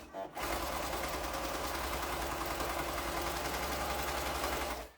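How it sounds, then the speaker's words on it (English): A sewing machine runs steadily for about four and a half seconds while chain piecing fabric strips for a quilt, a continuous close mechanical whir that starts abruptly and stops at the end, with no talking. "we're going to sew that together. So this part I am literally just going to cut, sew in a chain piecing scenario"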